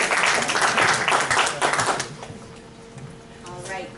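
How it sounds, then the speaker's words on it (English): An audience at a fundraising academy event claps in a burst of dense applause that fades quickly after a couple of seconds, leaving a quieter room with scattered faint clatter. "Big round of applause."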